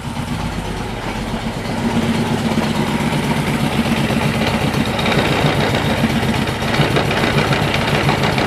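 A GS1000 motorcycle engine idles at around 1,000 rpm during a carburetor tune and sync, with a loud, close, steady throb that gets a little stronger after the first couple of seconds and then holds evenly.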